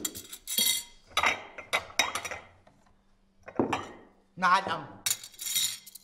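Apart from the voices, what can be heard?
plates and dishes being brought and set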